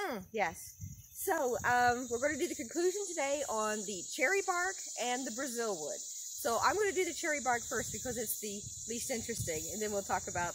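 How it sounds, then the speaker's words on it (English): Cicadas drone steadily outdoors on a summer day, a constant high buzz running through the whole stretch beneath someone talking close to the microphone. "Can you hear the cicadas?"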